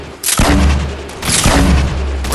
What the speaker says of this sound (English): Is that you shooting grenades or them? Yeah, he's shooting grenades.